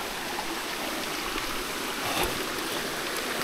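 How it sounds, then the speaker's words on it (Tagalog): Fresh spring water flows steadily over rocks at the source of a mountain spring, a continuous close rushing and trickling wash with no pauses and no voices. "bukal mismo, ayan, dumadaloy"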